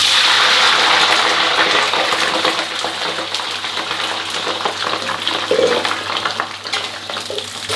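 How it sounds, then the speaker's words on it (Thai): Cabbage fries in very hot oil in a wok with a strong, steady sizzling hiss full of crackles and spatter that eases slightly over time, with no talking. "นี่เราจะนำกะหล่ำปีมาทอดก่อนนะครับ"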